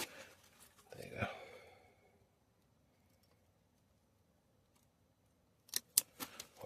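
A leaf being cut off a cucumber plant during a harvest, with a rustle early on, then a quiet pause and a quick cluster of crisp snips near the end.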